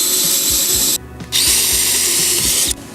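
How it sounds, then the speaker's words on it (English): A power drill bores starter holes for the legs of an aluminum railing post, loud whining bursts broken by a short pause and a stop near the end, close up with no talk. "I'm going to drill my starter holes for these legs."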